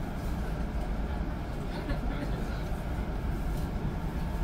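The Gunung Jati panoramic passenger train leaves Bekasi station with a steady, loud interior rumble and broadband rolling noise, heard from inside the carriage.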